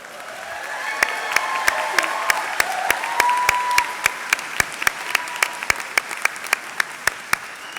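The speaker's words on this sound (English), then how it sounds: "we encourage you to express your pride by applauding and cheering" A commencement crowd at a university engineering and computer science ceremony applauds loudly and steadily for several seconds, a dense wash of clapping with a faint tonal sound drifting through it.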